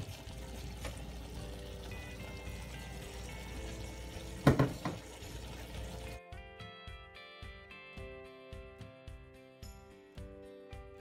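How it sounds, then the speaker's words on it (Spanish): Blended sauce poured onto vegetables for a beef stew, a soft liquid pour for the first few seconds with one sharp clatter near the middle, then a steadier rhythmic bubbling or tapping as it settles. "Y ya le voy a agregar la salsa que licuamos."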